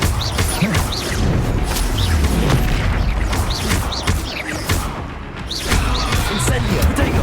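Incendio fire spell explosions from the Hogwarts Legacy video game: loud, dense booms and crashing blasts run continuously in the middle of combat, with other spell effects layered in.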